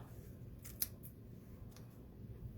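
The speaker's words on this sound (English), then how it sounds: "I'm going to snip off this edge over here" Scissors snip the long edge off a sheet of paper while trimming a handmade card, a few quick, light cuts standing out near the middle against a quiet room background.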